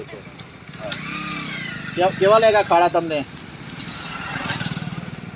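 A motorcycle engine passes along a street at night with a low, continuous rumble, swelling near the end. Someone talks over it in the middle.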